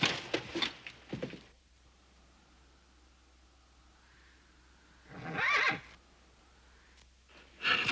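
A horse neighs loudly several times, with quiet gaps between the whinnies, over faint background hiss.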